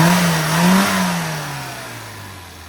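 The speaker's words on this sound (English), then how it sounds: "engine's running now, all tuned" A car engine, freshly tuned at the carburettor, runs loud and close, its pitch sliding up slightly then easing steadily down as it settles.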